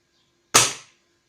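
A single sharp report from a Gamo Black Shadow air rifle firing, loud and close, with a quick decaying tail in an otherwise quiet setting.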